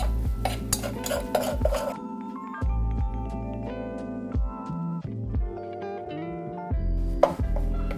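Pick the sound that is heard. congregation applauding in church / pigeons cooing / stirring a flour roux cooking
stirring a flour roux cooking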